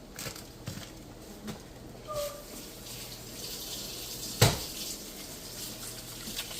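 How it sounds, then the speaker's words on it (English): Running tap water while hands are washed in a home kitchen: a soft, continuous faucet hiss with light splashing and one brief clatter, fairly quiet and with no talking. "Always wash hands"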